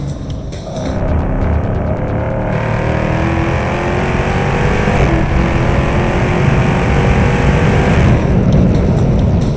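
Race car engine running loud and steady throughout during a lap of a road-trip racing event, its transmission refusing to stay in third gear, with constant drivetrain roar and a brief shift in tone midway.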